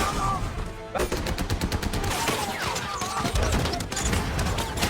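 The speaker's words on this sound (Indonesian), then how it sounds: "Norman terus menembaki para tentara Nazi yang berusaha untuk kabur" Rapid, loud gunfire fills a World War II tank battle scene from the war film Fury as soldiers shoot at fleeing Nazi troops, dense bursts of automatic fire cracking over a heavy rumbling background with no clear speech.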